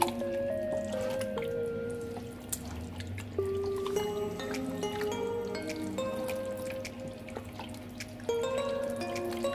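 Nkwobi, a spicy Nigerian cow foot dish, being stirred off the heat, giving a steady run of close, wet squelching and dripping sounds with a faint tonal hum behind them.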